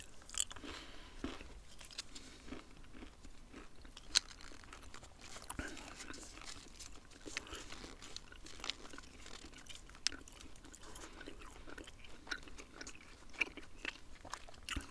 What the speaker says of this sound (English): And I'm going to pop that in my mouth and start chewing.